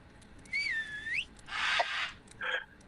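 A person whistles in a VR game: a rising-then-falling tonal whistle, then a breathy burst and a short second whistle, fairly close and clear, with no talking.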